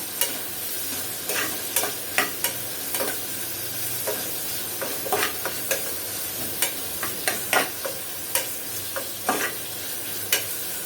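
Onions sauté with salt in a pan for rice and lentil dish, a continuous sizzle broken by frequent sharp scrapes of a spoon stirring through, close and alone without talk.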